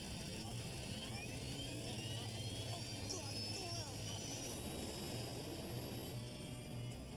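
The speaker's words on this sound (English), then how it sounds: "I feel the thrust of the engine re-engaging full throttle." Airliner jet engine spooling back up to full throttle during a crash landing approach at San Francisco, a loud steady broadband roar with a whining high tone and a low hum, continuous throughout.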